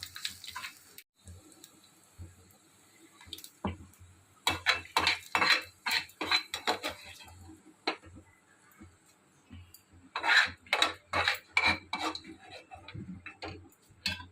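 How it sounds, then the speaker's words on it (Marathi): Coconut slices roasting in oil in a pan for a spicy Kolhapuri misal, with repeated sharp clicks and scrapes of a spatula against the pan in irregular bursts over a faint sizzle, no voices. "यातच आपण आता हे खोबऱ्याचे जे आपण काप केले आहेत ते घालायचे आणि हे रंग बदलेपर्यंत भाजून घ्यायचे"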